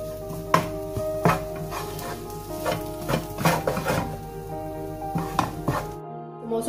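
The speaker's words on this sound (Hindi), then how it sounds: "गरम मसाला और कुटी हुई मिर्चें डाल के अच्छी तरह से इनको मिक्स कर लेंगे" A spoon stirs and mixes vegetable samosa filling with garam masala and crushed chillies in a pan, with repeated scraping knocks and soft sizzling at close range, cutting off abruptly near the end.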